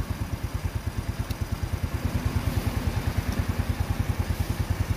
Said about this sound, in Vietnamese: Tiếng máy thì rất là êm.